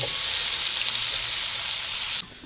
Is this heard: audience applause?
no